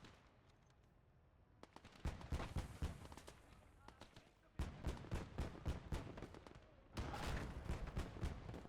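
Gunfire crackles in the Gates of Hell World War II strategy video game, with bursts of rapid shots arriving in three swelling volleys, sharp and dense against a continuous battlefield rumble.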